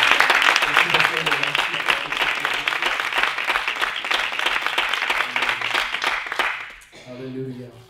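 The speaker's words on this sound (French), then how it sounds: "Donc, on peut applaudir." A church congregation bursts into sustained applause, dense and loud for several seconds before tapering off, with a voice speaking as the clapping fades.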